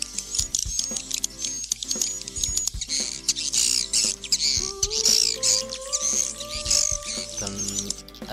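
Recorded swiftlet roosting call from a single channel, dense high chirps and twittering chatter in quick irregular bursts, fairly close, with some faint lower tones mixed in.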